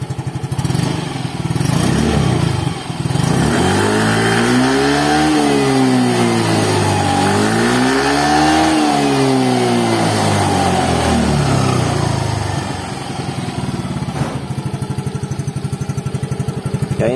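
A 2022 Yamaha Freego scooter engine idles, then is revved in two rising and falling throttle blips before settling back to a steady idle, close and loud throughout.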